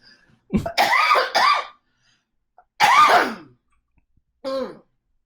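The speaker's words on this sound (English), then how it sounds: "I really need to cough." Three bursts of coughing, a double cough followed after pauses by two single coughs, close and loud with silence between.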